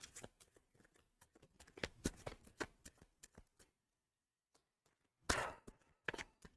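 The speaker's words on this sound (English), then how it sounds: "Give the cards a little shuffle here." Tarot cards shuffled by hand make crisp riffling and sliding bursts close up, with a brief quiet gap before one more flurry of shuffling.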